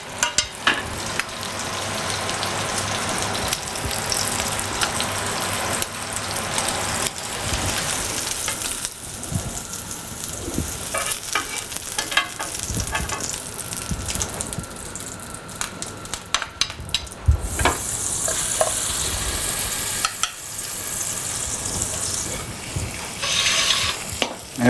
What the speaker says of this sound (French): Et on va venir tout de suite arroser la queue.